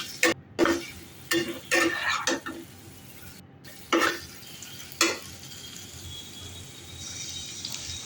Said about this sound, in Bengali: ভেজে রাখা আলুগুলো দিয়ে দিচ্ছি। এবার ভালো করে মশলার সাথে নেড়ে নেব ও আরও একটু সময় ধরে কষিয়ে নেব।